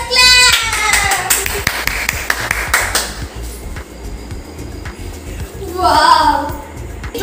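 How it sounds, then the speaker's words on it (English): Children and adults clap their hands in excitement while opening a new treadmill gift at home, a quick burst of claps up front and scattered taps later, with voices and chatter over it. "Just clap."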